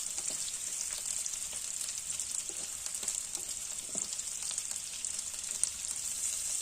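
Boiled, chopped potatoes fry in a pan, giving a steady close sizzle with soft crackles and occasional stirring scrapes throughout, no voices.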